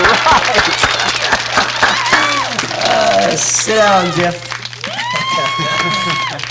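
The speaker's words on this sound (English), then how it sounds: "Are you listening to all of that applause out there?" A studio audience at a TV talk show applauds and whoops for a soap opera actor, loud sustained clapping and cheering while a host speaks over it, with rising and falling musical tones near the end.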